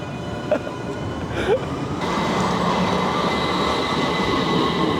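A tram rumbles steadily nearby with a brief squeal of wheels early on, then the noise grows louder and denser as it passes.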